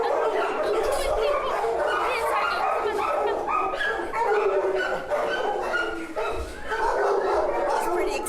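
An excited, high-energy dog at an animal shelter barks and whimpers continuously at close range, with yips and whines mixed in amid other dogs and people talking in the background.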